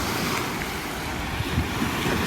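Waves wash onto the shore of Lake Malawi, a continuous broad surf rush mixed with wind buffeting the microphone, with no voices.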